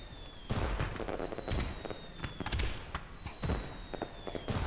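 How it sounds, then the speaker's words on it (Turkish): Fireworks burst in the Pac-Man arcade game, a run of loud booming explosions and crackles repeating every second or so over a steady electronic tone, with no voices. "havai fişekleri patlatıyoruz arkadaşlar"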